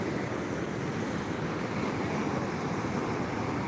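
Ocean waves at Madasari beach in Pangandaran, a steady broad roar of surf washing against cliffs in a small bay, mixed with wind rumble.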